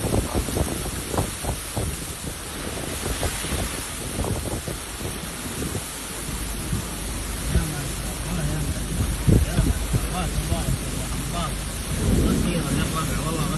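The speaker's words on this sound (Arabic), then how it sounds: "أمطار غزيرة ما شاء الله تبارك الله" Heavy rain pours in Tabuk, Saudi Arabia, a dense, continuous roar with wind buffeting the microphone and scattered low rumbles throughout.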